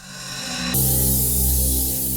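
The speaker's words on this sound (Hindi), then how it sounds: "जरा स्प्रे देना प्लीज" Aerosol can sprayed onto scraps of burnt paper: a soft build-up then a loud, steady broadband hiss lasting over a second, close and alone with no talk.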